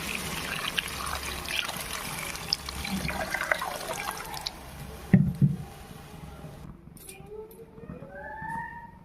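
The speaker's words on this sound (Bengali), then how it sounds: "এবার আমি পানি দিয়ে দেবো, পরিমাণ মতো পানি দেবো" Water poured into a cooking pot of simmering masala for a fish curry, a rushing pour over the hiss of the pan that cuts off midway, followed by quieter bubbling.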